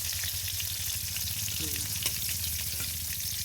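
Potatoes frying in hot oil, a dense steady sizzle at moderate loudness with a few light clinks and stirring touches, a voice briefly murmuring underneath.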